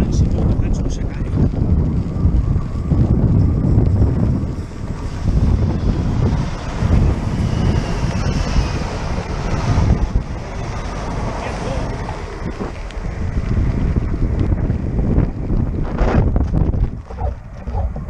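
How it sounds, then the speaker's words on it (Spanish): Strong wind buffets the microphone outdoors beside a railway line, a loud, continuous roar lasting the whole stretch with gusty swells and a brief lull near the end; a voice seems to speak faintly beneath it. "Voy desafiando el viento que me va a tirar."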